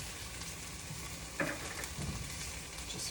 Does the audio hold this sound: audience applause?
no